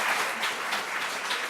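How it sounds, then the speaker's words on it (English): An audience at a foster care summit applauds panelists with a brief burst of dense, steady clapping throughout, moderately loud and without voices on top. "Please, let's give our panelists a round of applause."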